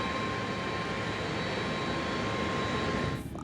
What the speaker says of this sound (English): 2 hours late, Flight 965 is cleared for takeoff.